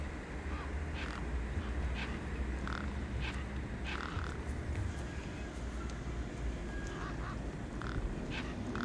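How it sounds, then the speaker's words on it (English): Harsh bird squawks and quacking calls come from a flock of birds in the video game Beyond a Steel Sky, repeated short cries over a steady low ambient rumble. "Those birds weren't going to let me anywhere near the back of the truck."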